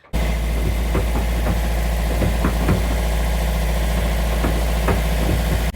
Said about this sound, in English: Engine's back on.